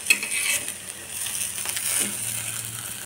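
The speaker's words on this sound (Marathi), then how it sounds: "आपण याला व्यवस्थित करपूस असे भाजून घ्यायचं आहे" Okra roasts and is stirred in a pan with a steady close sizzle, broken by a few clinks and scrapes of a spoon against the metal, with no speech.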